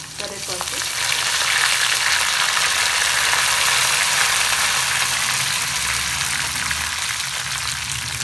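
Tempering of chana dal, ginger, dried red chillies, green chillies, peppercorns and curry leaves sizzles loudly in hot oil for temple-style curd rice, a dense, steady crackling hiss that stays strong throughout with no talk.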